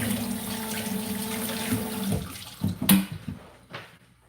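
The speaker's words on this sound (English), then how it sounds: "Let me wash my hands." Tap water runs steadily into a sink as hands are washed, then the flow is shut off, leaving a few brief splashes and drips before it fades out.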